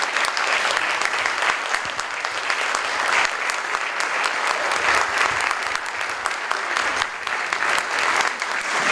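An audience at a Cleveland Book Week event gives author Saeed Jones a long, loud round of applause, a thick continuous patter of many hands with faint voices mixed in.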